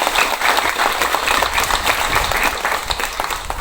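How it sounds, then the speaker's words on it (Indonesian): Dense, continuous clapping from a congregation during a sermon, loud and even for a few seconds with no talking. "tepuk tangan dulu."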